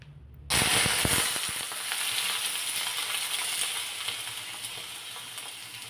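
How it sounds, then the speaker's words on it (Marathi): Washed potato slices dropped into leftover oil after peanuts were fried, a sudden loud burst of sizzling that settles into a steady close frying hiss with a few early crackles. "आता हे जे तेल उरले ना, यामध्ये बटाटा घालायचा."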